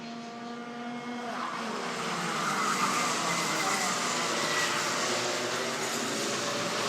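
Rotax racing karts run on a track during a race, giving a dense continuous high-pitched engine buzz that swells gradually, with no voices over it.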